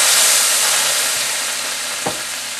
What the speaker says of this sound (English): And we're going to stir fry the pork.